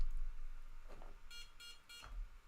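A radio transmitter for a UMX Voodoo model plane beeping as it is switched on, three short evenly spaced electronic tones, faint against a quiet room hum.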